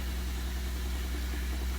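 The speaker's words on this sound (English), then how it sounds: "Nice quiet water pump." A quiet water pump under a kitchen sink hums steadily with a low, even mechanical drone and faint vibration, continuous and unchanging throughout.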